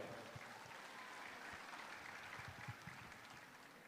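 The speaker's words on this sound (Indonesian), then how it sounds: "Boleh berikan tepuk tangan yang paling meriah." Audience applause at a Partai Amanat Nasional (PAN) officials' inauguration ceremony in Kalimantan, a fairly quiet, steady wash of clapping from a crowd lasting about four seconds.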